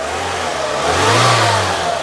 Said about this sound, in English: Rev your Micra.